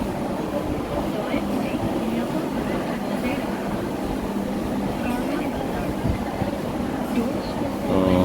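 A metro rail train runs along its elevated line near Bashundhara City, giving a steady, fairly loud rumble and rolling drone with a brief rise in noise near the end; faint voices may sit in the background.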